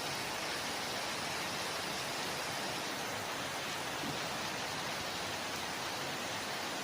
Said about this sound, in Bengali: ঝমঝমিয়ে বৃষ্টি হচ্ছে, এত জোরে বৃষ্টি হচ্ছে ভাবতে পারছি না।